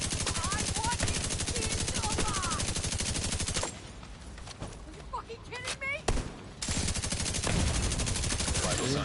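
Gunfire in The Division 2 video game: rapid automatic bursts rattle close and loud, break off into scattered shots and game effects, then resume in a sustained stream.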